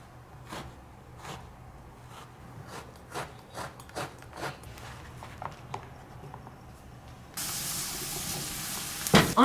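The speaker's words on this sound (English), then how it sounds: "I am going to cut up these eggplants and I have to get these stir frying." Eggplant stir frying in a pan: a string of soft scraping stirs and clacks, then a louder, steady sizzle bursts in near the end, close by and moderately quiet.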